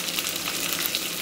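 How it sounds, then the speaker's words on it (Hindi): Curry leaves sizzle and crackle in a little hot oil in a tadka pan, a steady close frying hiss that holds without a break for the whole moment, with no talking. "तड़के के लिए हमने लिया एक तड़का पैन और इसमें हम डालते हैं थोड़ी सी तेल और उस पर हम डाल देंगे कड़ी पत्ता"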